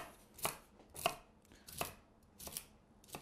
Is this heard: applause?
no